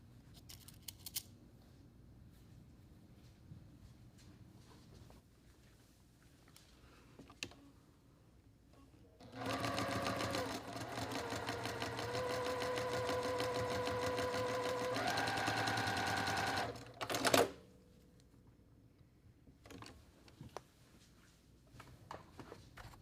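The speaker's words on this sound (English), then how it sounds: "pin here, and then just sew across" A sewing machine stitches across a quilt block in a steady, fast-running whir lasting several seconds, with its pitch rising partway through, framed by quiet handling clicks before and after.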